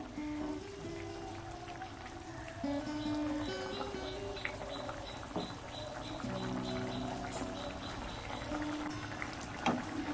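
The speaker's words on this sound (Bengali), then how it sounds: "মাছগুলো দিয়ে আরো 2 মিনিট ফুটিয়ে নেব।" Tangra fish curry with drumstick and potato bubbles in a pan, a soft, irregular simmering with small pops and gurgles, quiet and close, with no talk.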